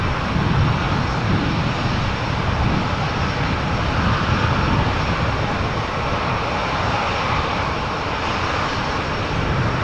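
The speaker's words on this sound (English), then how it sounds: "In the background we have an Embraer by KLM, which is going to go to Lyon, also coming this way" A KLM Embraer airliner at Amsterdam Schiphol Airport, its engines giving a steady, loud broadband roar that holds evenly throughout with no talk.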